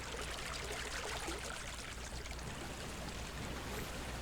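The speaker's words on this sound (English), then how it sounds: "I think it's the waterfall not too far from us" A Second Life waterfall nearby gives a steady, soft rushing and trickling of water, continuous and even, faint and without any voices.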